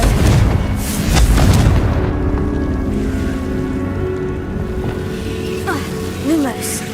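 A fiery Confringo blasting spell goes off in the Hogwarts Legacy video game, a deep booming rumble that swells and fades over a few seconds, with a voice speaking alongside and faint magical chimes near the end.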